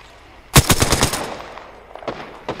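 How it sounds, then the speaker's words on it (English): Rapid automatic gunfire from enemies in Apex Legends, a loud burst of closely spaced shots followed by a few scattered fainter shots, no talk. "The enemies are shooting at me."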